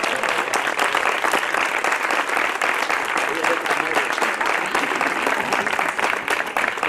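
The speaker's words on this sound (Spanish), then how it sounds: "Un aplauso al maestro, hombre, que se lo merece." Audience applause for a matador at a bullfighting exhibition event, steady dense clapping from a crowd filling the room, sustained and fairly loud throughout.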